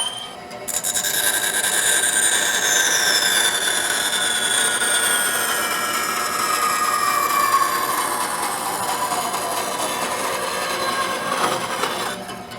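A wood lathe spins a wooden scoop blank while a tool cuts in, producing a steady high whine with shifting, sweeping pitch and an even grinding hiss that runs unbroken for the whole stretch.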